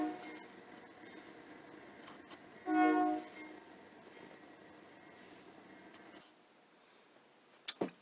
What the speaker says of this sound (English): Train has moved on down the road